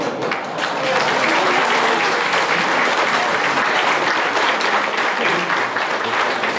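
Sustained applause from a cabaret audience, dense steady clapping that holds at full strength for several seconds with a few cheers mixed in.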